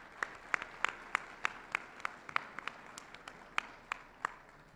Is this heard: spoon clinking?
no